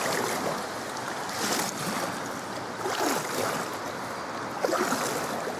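Water rushes steadily over a river weir, a broad continuous roar with surging swells, heard from nearby in open air with a light breeze and no talking.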